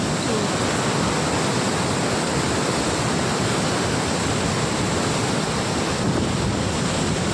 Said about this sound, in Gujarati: અહીંયા બધું પાણી જાય છે તાપી નદીમાં